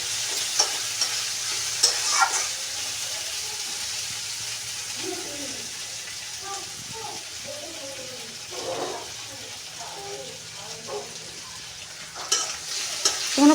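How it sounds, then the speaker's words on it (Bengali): Red lentils with bottle-gourd greens being stirred and fried in a pan, a soft steady sizzle with scraping stir strokes, moderately close, and a few brief bumps of utensil noise. "এখন ভালো করে নেড়ে চেড়ে নেব। লাল লাল করে ভেজে নেব।"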